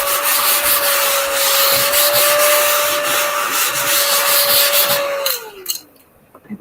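Steady close rubbing strokes of sandpaper on a small wooden cutting board, loud and continuous for several seconds, with a faint high whine in the background before the sanding stops and the room goes quiet.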